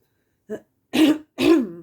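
A short cough followed by two rough throat clears, close and distinct, with silence between.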